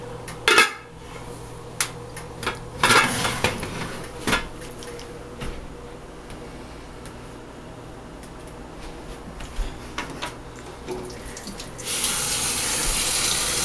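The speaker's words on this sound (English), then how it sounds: "Washing my hands." Water runs from a kitchen tap while hands are washed at the sink, a steady stream with a few clinks of dishes and cupboard knocks, growing louder near the end.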